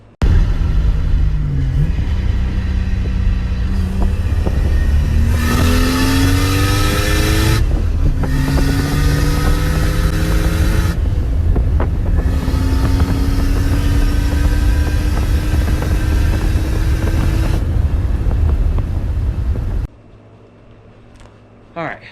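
A turbocharged Lexus IS300 accelerates hard through several gears, the engine climbing in pitch with each pull and dropping at shifts, loud and close, before abruptly going quiet.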